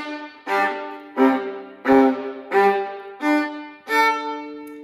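Viola bowed with rough, choppy string crossings: six separate strokes, each starting with a harsh attack and fading, unevenly spaced and unpolished, with no talking.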